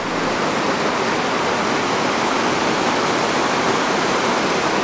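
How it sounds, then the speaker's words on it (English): A waterfall cascades in a steady, dense roar of falling water, close and loud, filling the scene with unbroken white rushing noise and no voices over it. "So I hope you can hear me over the noise of the water"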